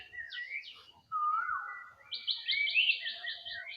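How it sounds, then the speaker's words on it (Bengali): Birds chirp and whistle nearby on a village morning, with a sweeping call followed by rapid repeated high trills, clear against an otherwise quiet background. "একদম পাখির আওয়াজ"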